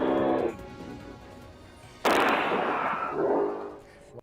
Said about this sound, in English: Like, those aren't firecrackers. That's fireworks.